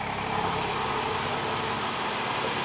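A BMW M235i with an N55 engine and a VRSF catless downpipe idles at a steady, fairly quiet rumble, with no other sounds over it.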